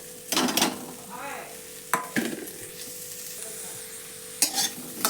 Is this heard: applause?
no